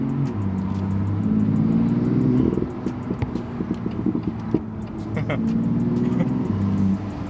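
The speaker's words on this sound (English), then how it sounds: "I'm just listening to the burbles." A tuned, supercharged BMW M2 rumbles and revs up with a deep, growling engine note, then eases off into crackling exhaust burbles and pops, heard loud and close from inside the car.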